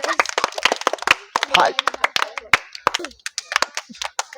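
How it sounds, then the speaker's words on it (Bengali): A crowd claps for a prize winner at a children's game of kicking a ball through a tyre: a burst of sharp, uneven hand claps, close and lively, mixed with people talking. "সকলে একবার জোরে হাততালি"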